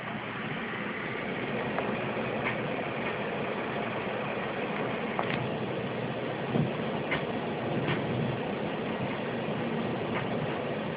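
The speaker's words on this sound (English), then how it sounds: "This is fan noise on idle." An ATI Radeon X800XT Platinum Edition video card fan runs at idle, producing a steady, moderately loud broadband whoosh with a low hum underneath and a few faint ticks, unchanging throughout and without speech.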